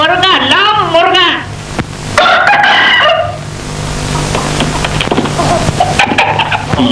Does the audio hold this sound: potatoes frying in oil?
no